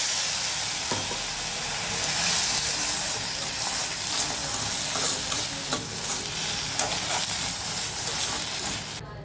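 Sugar caramelizing in a pan with a little water over low heat: steady broadband sizzling and hissing, with occasional soft scraping as it is stirred, continuous and fairly loud.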